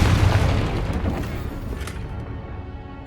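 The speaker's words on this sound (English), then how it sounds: "Confringo." Confringo fire spell going off in Hogwarts Legacy, a loud booming blast that rumbles and fades over a few seconds.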